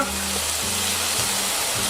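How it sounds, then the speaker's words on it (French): Steady, crackling sizzle of a shallot and red wine reduction cooking down to dry in a hot pan, continuous and fairly loud with no talking. "si vous écoutez, vous entendez grésiller"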